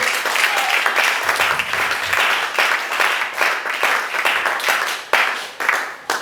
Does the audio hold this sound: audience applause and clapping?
yes